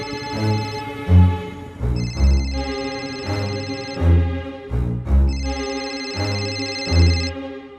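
A telephone rings repeatedly in a bright electronic pattern, with bursts of ringing separated by brief pauses, loud and close in a domestic scene from a Hindi crime drama.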